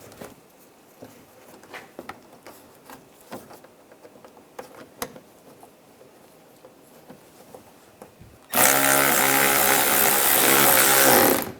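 A power tool drives bolts on the active grille shutter of a 2013-2016 Dodge Dart: several seconds of faint clicks and handling taps, then a sudden loud, sustained mechanical whir near the end.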